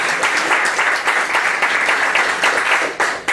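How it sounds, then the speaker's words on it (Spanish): Loud, dense applause from an audience at a protest gathering, many hands clapping close and steady for a few seconds with no voice over it. "Fuertes aplausos"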